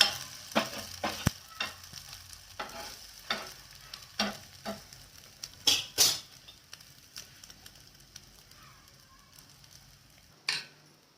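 Egg bread frying in a pan makes a soft sizzle, with intermittent scraping and pressing taps of a spatula at close range and no voices.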